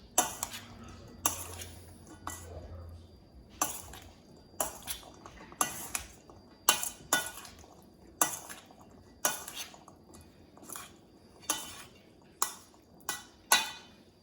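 A bean salad with tomato, avocado and olives is stirred in a bowl, producing a series of sharp clinks and scrapes of a utensil, about a dozen irregular strokes, close and crisp against quiet.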